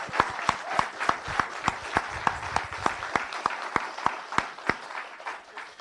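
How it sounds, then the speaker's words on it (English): Audience applause for students at a college startup pitch day, with a steady round of clapping and sharp individual claps standing out rhythmically over a softer crowd wash, fairly close and sustained throughout. "Everybody pitching, I encourage you to clap for these people like you really mean it."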